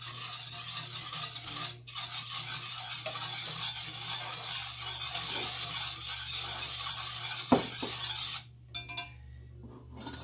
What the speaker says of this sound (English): 1/3 cup of sugar. And we are going to whisk this frequently.